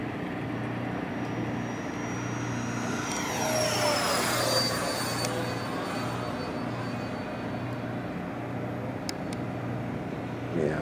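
A Freewing 90mm F-4 Phantom II RC jet makes a high-speed pass at an evening flying event, its ducted-fan whine rising and sweeping down in pitch as it flies past, steady and moderately loud throughout.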